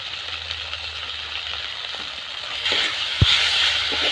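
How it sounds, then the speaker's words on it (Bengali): Ground turmeric, chilli, coriander and cumin paste fries in a pan for a spicy crab dish, a steady close sizzle with soft crackles and one sharp clink near the end. "সব মশলা কষিয়ে নেব"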